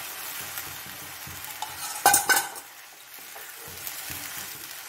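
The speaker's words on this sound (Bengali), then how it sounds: "এটা আমাকে একটু নেড়ে দিতে হবে" Kadhi with okra being stirred in a pan, a low simmering sizzle broken by a brief loud clatter of the spoon against the pan near the middle, close by with no talking.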